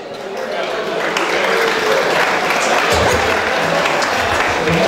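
Wedding guests in Paris applauding together, a sustained wash of clapping and crowd noise that stays loud throughout, with voices mixed in.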